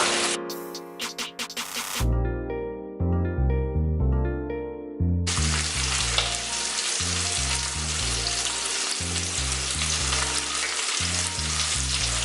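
Steaks sear in oil in a pan, giving a loud, continuous sizzling hiss that begins partway through and holds steady. Rhythmic background music plays throughout and is alone at the start.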